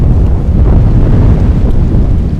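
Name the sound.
wind blowing outdoors during archery hunt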